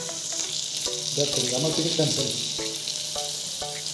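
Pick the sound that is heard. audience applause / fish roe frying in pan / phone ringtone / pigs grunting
fish roe frying in pan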